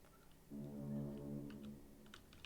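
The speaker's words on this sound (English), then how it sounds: "Somebody just honked as I went past." A single deep, droning ship horn blast sounds for about a second in the naval game King of the Sea, fairly distant, followed by faint clicking.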